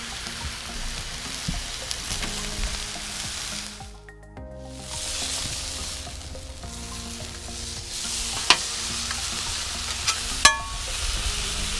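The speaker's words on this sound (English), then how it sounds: "You're gonna see how it sears everything in there." Sirloin steak and garlic sear on a Blackstone flat-top griddle, giving a loud, steady sizzle and crackle with a few sharp spatter pops and no one speaking.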